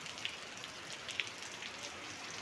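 Heavy rain pours steadily in a storm in Chennai, a dense, continuous hiss with a few sharper drops standing out, close and unbroken.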